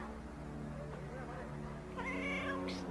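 A cat meows, a drawn-out wavering cry that rises near the end over a quiet background with soft low tones.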